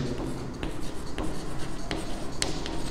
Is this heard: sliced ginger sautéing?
no